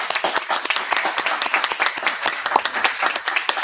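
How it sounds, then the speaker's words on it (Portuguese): Audience clapping at the close of a solemn session celebrating a union's ninth anniversary, a dense, lively run of hand claps heard up close with individual sharp claps standing out. "Aplausos para todos."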